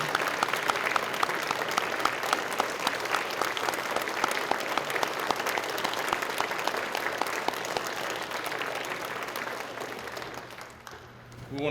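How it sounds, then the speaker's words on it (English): Banquet audience applauding award recipients at a firefighter awards evening in Pasadena, a dense sustained round of clapping from a large crowd that carries on for about ten seconds before thinning out. "Let's give all of our award recipients another round of applause."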